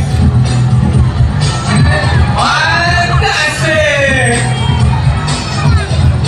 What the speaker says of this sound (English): How about another round of applause for Sila and Brad?